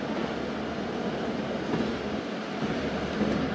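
Steady rumble of a passenger train in India running after a stop at a station, a continuous dense roar with no talk over it.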